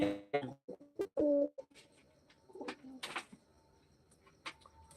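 Pigeons at close range, one of three birds present, give soft low coos in short separate phrases, with other faint chirps and noises scattered around them in a quiet space.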